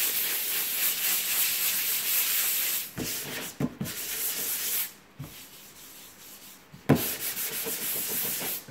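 MDF faces are sanded by hand with 240-grit sandpaper, a close, steady scratchy rubbing in long strokes broken by a few short pauses, with no talking.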